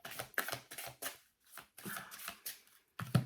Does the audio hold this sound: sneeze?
no